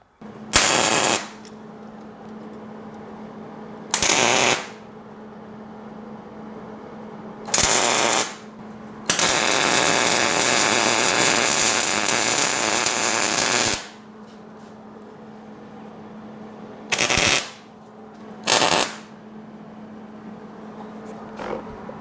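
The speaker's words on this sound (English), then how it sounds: "So I'll get a tack here, here, and in the middle. Then we'll get it full welded." Steel billet hood hinges for a GTO restomod are welded, with short crackling tack bursts followed by one long continuous weld run and more brief tacks, each burst loud and close against a low background hum.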